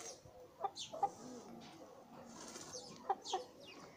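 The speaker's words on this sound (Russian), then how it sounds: "О, курица подошла." A chicken clucks a few times at a guest house garden in Alupka, Crimea, with short soft calls spaced irregularly against a quiet outdoor background of other birds.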